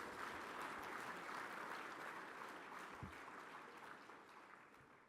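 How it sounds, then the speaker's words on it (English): Applause from an awards-gala audience at a red-carpet evening event, a steady wash of clapping that holds for several seconds and slowly fades toward the end. "give yourself a round of applause"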